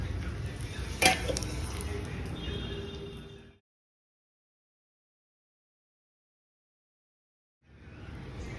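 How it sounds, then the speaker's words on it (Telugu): Tempering spices sizzle in oil for a radish yogurt chutney, with a metal clink and stirring over steady frying, then a long stretch of silence before the sizzle returns. "ఇప్పుడు తాలింపు చేసుకోవాలి"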